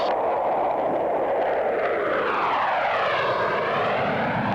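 Loud, steady roar of F-16 jets flying past in tight wingtip-to-wingtip formation at an air show, with a sweeping pitch shift as they pass overhead.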